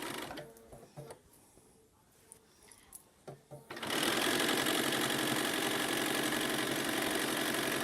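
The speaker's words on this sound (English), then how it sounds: "Now you start stitching right from the edge of that fabric." A sewing machine stitches quilt binding fabric: after a few quiet taps and clicks, the motor starts up into a loud, steady rapid whirr that continues to the end.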